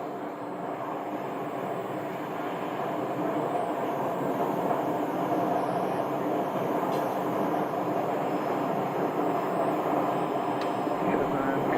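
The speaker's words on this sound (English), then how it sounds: "the Pilatus PC-12 is up next for departure" A Pilatus PC-12 single-engine turboprop departs from Scottsdale airport, its engine a steady, broad roar that holds and swells slightly across the whole stretch, with voices talking over it.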